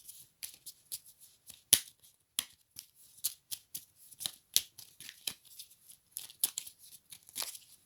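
Oracle cards being cut and handled, a rapid run of crisp snapping and riffling clicks, close and fairly quiet, with no talk.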